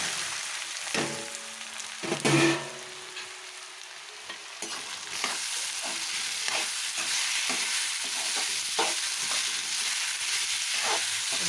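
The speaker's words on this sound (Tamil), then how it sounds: "இப்போ கடுகு போட்டு பொரிஞ்சதும் இந்த மஞ்சளை போட்டு வதக்கலாம்" Fresh turmeric and mustard seeds frying in hot oil for a turmeric pickle, a soft continuous sizzle with a few louder crackles and stirring scrapes near the start.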